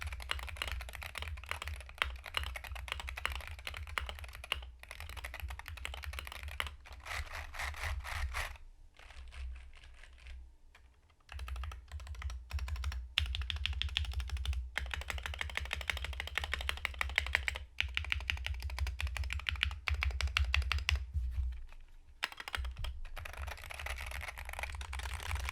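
Steady typing on a Wooting 60HE keyboard resting on a desk mat, continuous quick clacking keystrokes with a few brief pauses, close and clear with no talking.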